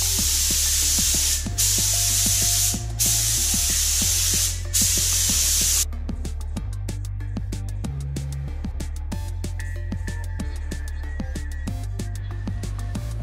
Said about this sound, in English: Gonna pour it in the gun, get some, some strokes in, figure out what is gonna be best, and then apply the primer here.